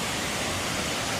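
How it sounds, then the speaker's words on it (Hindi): A waterfall at Mirchaiya Falls near Betla National Park gives off a dense, steady roar of rushing water, loud and constant with no pauses. "आप झरने की आवाज़ सुन सकते हैं।"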